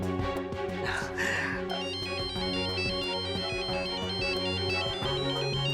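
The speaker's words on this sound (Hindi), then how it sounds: "देखो चंचल बुआ का फोन है" An electronic mobile ringtone plays a repeating melodic pattern steadily for several seconds over a dense musical score, with a brief voice near the start.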